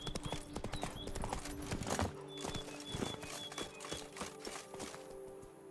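Geralt's horse Roach trotting in The Witcher 3: Wild Hunt, a rhythmic run of close hoof clip-clops over a musical ambient backdrop that eases off toward the end.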